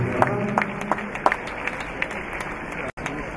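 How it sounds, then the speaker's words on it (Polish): An indoor crowd at a ladies' medal ceremony for the Mentor Torun Cup 2017 applauds steadily, with sharp individual claps standing out from the even clapping and an announcer speaking over it. "Wielkie brawa."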